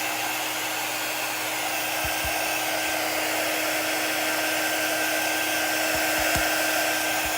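A Chalk Couture quick dry tool, a handheld air blower that stays cool, gives a steady, loud whoosh of rushing air that holds unbroken, with a few faint low knocks underneath.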